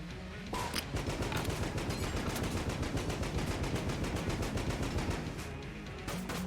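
Rapid gunfire from the video game Enter the Gungeon, with dense, continuous rattling shots and bursts that carry on for several seconds at a steady loud level.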